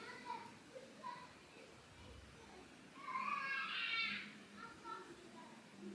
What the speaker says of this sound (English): you will hear my toddler in the background